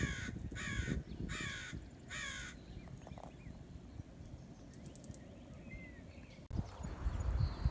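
Several harsh crow caws ring out in quick bursts, followed by fainter chirps and scattered bird calls over a quiet outdoor background at the UC Santa Barbara Lagoon.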